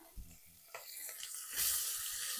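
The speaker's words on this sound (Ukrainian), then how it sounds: "Підсмажимо до м'якості цибульку" Chopped onion going into melted pork fat in a pan for bigos, hissing into a soft sizzle that swells louder after a few light clinks and scrapes, close up with no talking.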